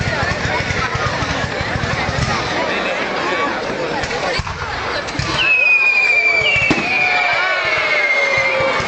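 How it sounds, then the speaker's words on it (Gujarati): Fireworks exploding over Melbourne at a public display: dense crackling bursts, sharp bangs and whistling rockets that trail into falling tones, with people talking and a crowd murmuring throughout. "મસ્ત લાગેલા છે ફટાકડા."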